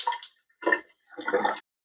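Rinse water drains out of a container of broccoli sprouts in three short splashing pours separated by brief silences.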